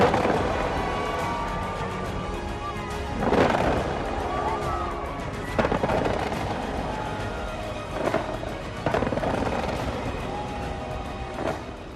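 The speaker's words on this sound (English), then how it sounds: "Hong Kong, known for its fireworks extravaganzas, the waterfront was a glitter in a big way." New Year fireworks over the Hong Kong waterfront, with repeated bursts and crackles at irregular intervals over a busy crowd and background murmur.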